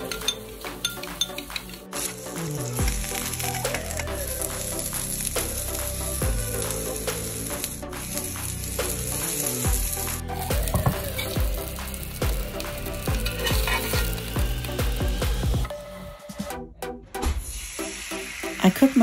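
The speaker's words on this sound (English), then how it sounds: "I cook my eggs in this cast iron Japanese tamago pan" Eggs cook in a cast iron Japanese tamago pan, a steady close sizzle broken by metallic clinks and scrapes of a utensil against the pan, with no speech.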